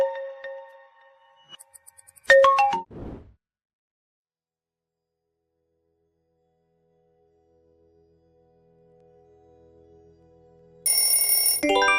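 A Vivo smartphone ringtone plays a few bright, short melodic chimes. Silence follows, then louder tones return near the end.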